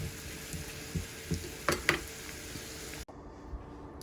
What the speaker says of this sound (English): just saute this for about 5 minutes till the onions get